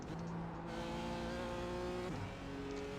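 A GT4 race car engine at Summit Point in the iRacing sim drones steadily at high revs, holding a continuous loud tone with a sudden pitch drop near the end as it shifts or lifts for a corner.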